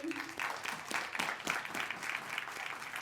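Guests at an iftar dinner applaud the organizing team, a moderate patter of clapping from a modest crowd that carries evenly through the moment.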